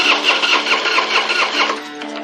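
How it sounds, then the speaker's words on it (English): A Harley-Davidson Fat Boy motorcycle engine with a rusty, fuel-starved tank cranks steadily but never fires, its starter churning loudly and rhythmically up close, then easing off at the end. "we put a little fuel in it and tried to start it up. It's just spinning over. It's not getting any fire."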